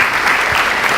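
Audience applause at an Info Systems orientation session, a steady dense wash of clapping hands filling the whole second with no pause.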